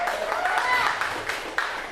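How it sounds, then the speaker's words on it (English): Light, polite clapping from a comedy festival audience, a brief scattered patter of hands lasting a couple of seconds at moderate loudness. "Your polite applause feels just as good as getting drunk used to"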